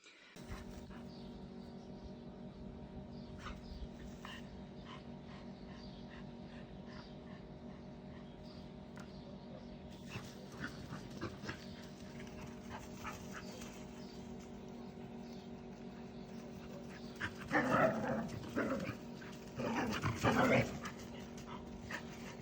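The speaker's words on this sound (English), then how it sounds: "And they were so friendly and playful, and Bima were enjoying to spend time with these 2 doggies" Two husky dogs play together with panting, yips and a few barks and growls, mostly at moderate distance, with bursts of louder excited vocalizing near the end over a steady low background hum.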